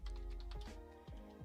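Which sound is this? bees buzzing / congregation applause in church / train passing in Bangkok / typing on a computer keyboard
typing on a computer keyboard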